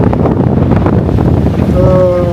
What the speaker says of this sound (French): Et les belles rafales de vent à plus de 30 nœuds.